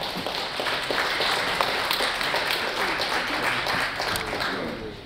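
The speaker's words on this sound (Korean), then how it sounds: "여러분 큰 박수 부탁드립니다" A large audience at a health talk show applauds steadily as guests walk onto the stage, a dense sustained wash of clapping that holds at full strength for the whole stretch.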